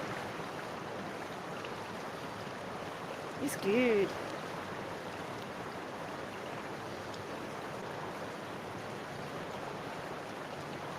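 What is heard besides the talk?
raging waterfall ambient sound effect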